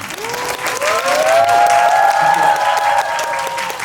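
Audience applause at the curtain-call stage greeting after the final performance of the musical Treadmill, a dense, steady clapping that swells and holds for about four seconds while a voice carries on over it.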